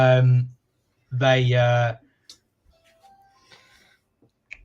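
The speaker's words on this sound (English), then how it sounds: "the Ring doorbell just completely threw me off then" Ring doorbell chime, two loud clear electronic tones, the second following about a second after the first, then quiet with faint small noises.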